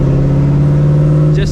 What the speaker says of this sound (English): my exhaust is so loud.